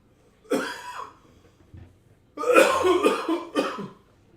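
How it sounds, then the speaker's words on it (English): A few harsh coughs close up: one short burst, a pause, then a longer fit of coughing followed by another cough, with no talking. "I hate coughing on the mic"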